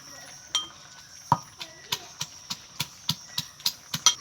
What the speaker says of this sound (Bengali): আমি ধামান দিস্তে করে বেটে নিচ্ছি।